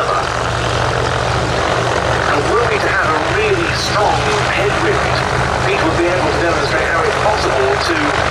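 A Rotorsport UK Calidus gyroplane flies overhead at the Duxford summer airshow, its engine and rotor making a steady, loud drone with a wavering pitch, while a commentator talks continuously over the public address.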